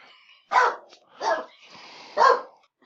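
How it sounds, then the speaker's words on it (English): A dog barks at a cyclist passing the house: three sharp, loud barks spaced about a second apart, heard indoors with no talking. "My dog saw a cyclist going by the house and decided that he wanted to try attack it or eat it or something"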